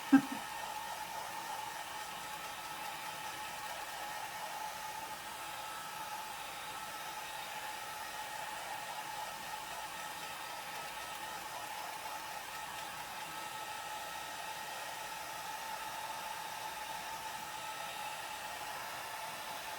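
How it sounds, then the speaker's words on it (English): A hair dryer blows steadily with a constant whooshing whir and a faint motor hum, unchanging throughout, with no one speaking. "So now I'm going to use my dryer to dry this"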